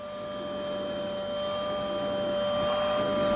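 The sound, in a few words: vacuum cleaner cleaning panels on the ISS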